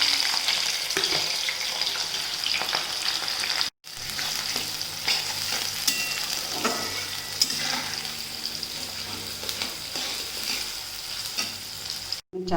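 Finely chopped onion and green chilli frying in a pan, a steady close hiss and sizzle with occasional stirring scrapes, briefly cut out twice.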